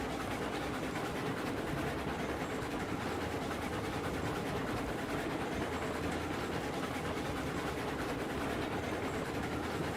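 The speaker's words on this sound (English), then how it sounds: "Let you hear the train and the sound of the train cars." A steady rumble of a locomotive with train cars rolling along in Railroads Online, continuous rattling and clacking at even loudness throughout, no talking.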